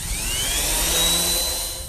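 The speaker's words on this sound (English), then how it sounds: "So now we'll do some sanding." Power sander running on a wooden cheese board freshly cut on a bandsaw, a steady high whine with a rising tone under a constant low rumble, close and continuous throughout, with no voices.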